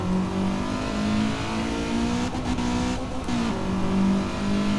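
A Honda Civic 1.6 VTi engine revs hard and holds high RPM in the racing game Assetto Corsa, a loud, steady drone with brief dips as gears shift.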